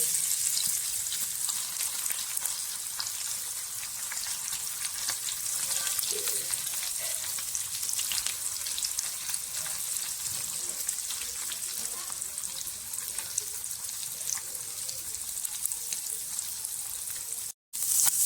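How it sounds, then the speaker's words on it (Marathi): Fish fries in hot oil with garlic in a pan, a dense, continuous sizzle and crackle close up that holds steady throughout, with a brief dropout near the end. "आता तव्यामध्ये मासे सोडू आपण तव्यावर तेल घातलेलं आहे त्याच्यामध्ये आपण लसूण घालून घेऊ"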